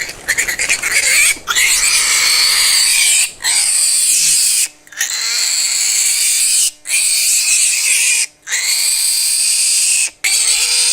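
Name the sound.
baby pig, a female, oinking in a trap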